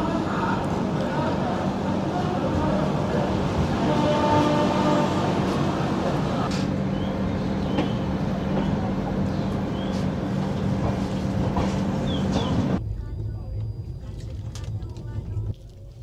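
The Kamrup Express 15960 rolls on after pulling out of NJP with a dense, steady rumble and rattling under ongoing talk, and the sound drops suddenly quieter near the end.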